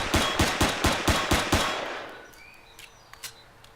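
Automatic weapon fire in the space survival game Empyrion Galactic Survival: about eight rapid, loud, close shots in a steady rhythm, then a fading tail with a few faint pings and chirps.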